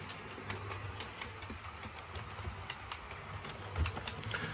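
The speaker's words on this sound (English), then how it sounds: "You can see the train coming around now." A model railway train runs around a scenic corner of a Yorkshire Dales layout, giving faint, steady track rumble with light clicks and a low hum throughout.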